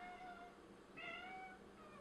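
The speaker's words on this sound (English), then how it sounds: "I think my cat's dying." A pet cat meows indoors, two or three short tonal calls spaced across a couple of seconds, faint and fairly close, with no talking over them.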